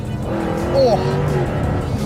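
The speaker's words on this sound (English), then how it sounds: "This has a 550 horsepower supercharged Jaguar V8 engine." Car powered by a 550-horsepower supercharged Jaguar V8, engine droning loud and close with a brief rising whine in the middle, under a busy cabin mix.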